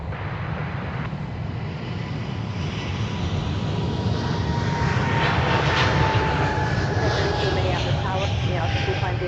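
An Airbus A220 airliner departs at MSP airport with a steady broadband engine roar building gradually in loudness, continuous and somewhat distant, under spoken commentary.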